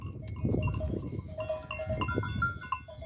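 Karacabey Merino sheep and lambs bleat on a farm, with several overlapping calls over a steady background of milling animals, at moderate loudness and fairly close.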